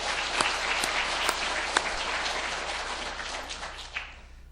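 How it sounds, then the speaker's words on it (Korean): A crowd claps together in sustained applause, dense and steady, tapering off slightly toward the end. "우리 격려의 박수 한번 드리겠습니다."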